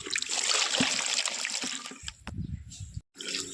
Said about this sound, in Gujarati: તુલસીમાં પાણી નાખીએ.